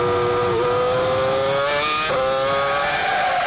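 Formula 1 race cars scream past on track as Hamilton's McLaren overtakes Heidfeld's BMW, high engine notes rising and shifting through gears, loud and continuous, with a second car's pitch crossing in.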